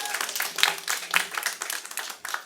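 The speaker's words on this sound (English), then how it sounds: "Please give her a big round of applause." A small crowd at a press conference on e-cigarettes claps for the public advocate, brisk close handclaps in a dense, uneven patter throughout the short burst.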